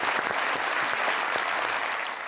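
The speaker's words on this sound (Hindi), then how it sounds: "इनके लिए बहुत सारी तालियां।" Studio audience applause for a gift hamper winner on a talk show, a dense burst of many hands clapping together, fairly loud and sustained without a break.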